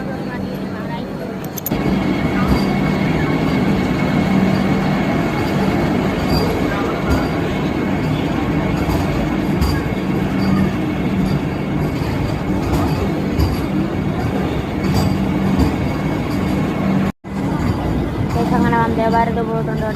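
A Vande Bharat express rumbles through a railway station with a sustained, loud rolling clatter and faint squeals, while people talk nearby.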